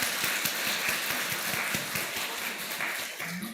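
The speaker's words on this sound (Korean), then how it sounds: "한번 박수해 주시면 고맙겠습니다" A church congregation applauds after an infant baptism during an Easter Sunday service, with dense, steady clapping from many people filling the room without talk.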